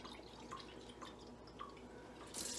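Water draining and dripping from a jar of freshly rinsed alfalfa and arugula sprout seeds, a steady faint trickle with scattered soft drips and a brief louder splash at the end.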